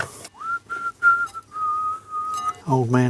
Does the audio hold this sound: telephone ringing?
no